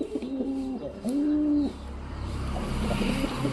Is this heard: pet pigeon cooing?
yes